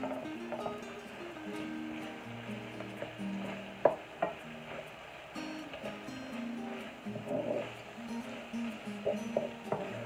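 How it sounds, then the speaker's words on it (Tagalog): Ground pork stirred into a pan with sautéed garlic and onions for an eggplant omelet, giving a steady, moderate sizzle with scraping stir strokes and a few sharp clinks of the utensil. "Ihalo lang natin ng mabuti hanggang sa mag-brown na yung fork"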